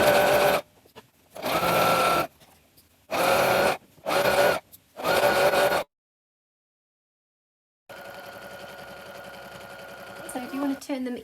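A sewing machine stitches fabric in several bursts of steady whirring, loud and close. Pauses and a silent gap break up the bursts, and a final longer stretch of machine noise follows. Short remarks can be heard between bursts.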